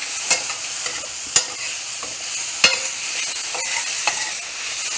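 Pasta with greens, mushrooms and ground turkey sizzles in a pan while being stirred, with a steady bright hiss broken by a few sharp utensil scrapes and knocks.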